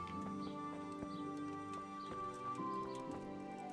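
A horse in the video game Kingdom Come: Deliverance, with soft hoof clops and movement sounds mixed under a steady layer of game music.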